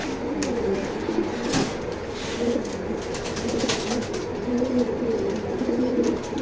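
Racing pigeons coo in a loft, several birds overlapping in steady low rolling calls throughout, fairly close, with a few brief wing flutters and background rustle.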